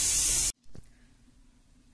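Loud hissing burst of steam from a pressure cooker of dal and rice, a dense spray of noise lasting about half a second before cutting off sharply, followed by a faint clink and quiet kitchen background.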